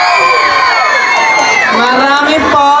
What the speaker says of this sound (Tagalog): Wala rin po ba hiyawan dyan?